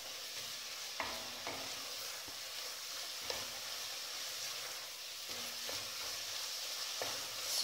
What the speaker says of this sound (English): So stir all that in together, mix it.